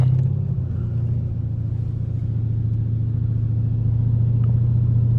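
A loud Dodge Hellcat SRT driven on wet roads gives a steady, heavy low engine rumble that holds close and continuous throughout, with no talk over it.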